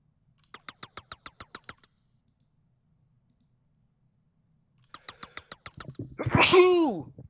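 A single sharp sneeze bursts out near the end, close and loud, after two runs of quick rhythmic clicking separated by silence.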